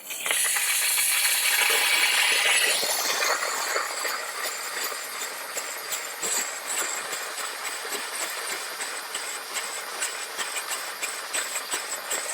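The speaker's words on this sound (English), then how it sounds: "So the heat of the steam is starting to melt the paint" A steam cleaner works on a leather car seat to melt paint. A loud, steady hiss is strongest in the first few seconds, then settles into a continuous rushing noise with faint rattling texture.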